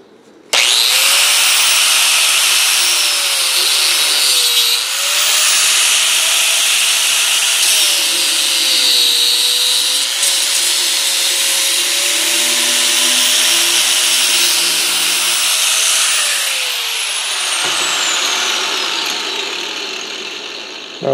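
An abrasive cutoff wheel slices through the copper windings of an electric motor armature, giving a loud, steady high-pitched grinding whine that holds for most of the stretch, dips in pitch under load, then spins down near the end.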